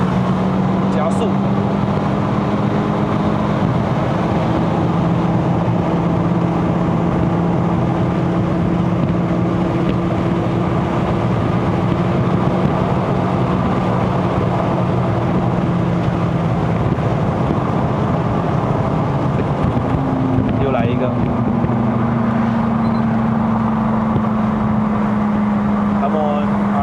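A 2.0-litre naturally aspirated MK3 Ford Focus Sport+ accelerates hard on a mountain road, its engine drone climbing steadily in pitch, dropping at a gear change, then rising again under constant cabin and road noise.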